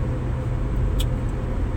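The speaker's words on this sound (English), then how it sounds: "It sounds like it's got a little bit of a misfire." Car engine idling with a slight misfire, a loud, close, continuous low rumble with an uneven pulse and no talk.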